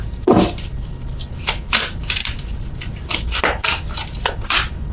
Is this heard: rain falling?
no